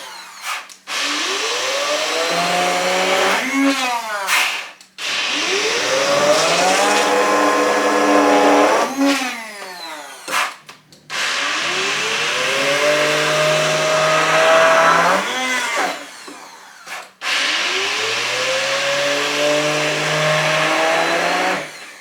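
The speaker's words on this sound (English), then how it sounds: "I have got my hand blender. You could put this in an actual blender if you want to." A hand blender blitzes honey mustard in a kitchen, with four long bursts of loud whirring motor noise that rise in pitch as each run starts, separated by short pauses.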